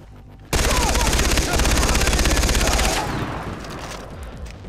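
Dense, sustained gunfire in the video game Far Cry 3, with a loud rapid burst of automatic fire from many directions that eases into quieter scattered shots and background battle noise.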